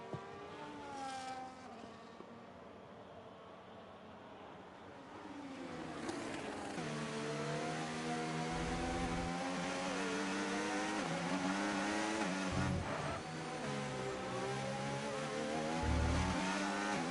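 Racing cars in a video game race at Spa pour down through Eau Rouge, their engines a continuous roar, rising in pitch and shifting gears as several cars pass, with brief low thumps over the kerbs.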